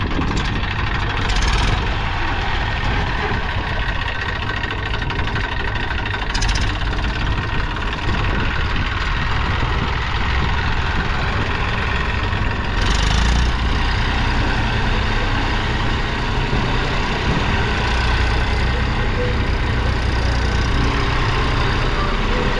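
An Eicher tractor stuck in the ground idles steadily, a loud continuous low engine drone with a few brief bursts of louder noise over its rumble.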